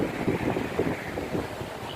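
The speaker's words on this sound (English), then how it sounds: "It's gotten aggressively more windy out." Strong wind ahead of a severe thunderstorm buffets and roars across the microphone in uneven gusts, a steady rushing noise with no voices.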